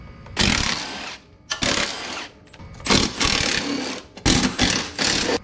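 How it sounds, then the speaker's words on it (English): Rapid ratcheting bursts from a ratchet wrench backing out the four bolts on a Can-Am Outlander 1000R XMR Gen 2 rear differential, coming in four loud, close passes separated by short pauses. "So the next part is gonna be to take off these four bolts."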